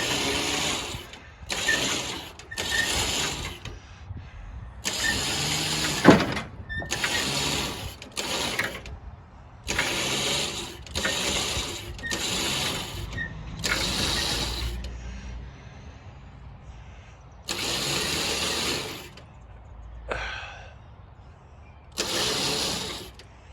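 A winch hauls a mini tracked loader onto a trailer in repeated short bursts of grinding, ratcheting mechanical noise, stopping and starting with brief pauses between pulls.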